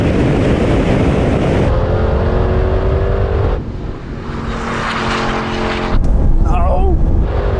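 A Porsche and an Audi launching side by side in a drag race, loud engines climbing through rising revs with abrupt shifts between gears, close, with voices over them.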